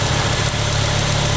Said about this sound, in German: Und dann läuft er halt wie ein Vierzylinder.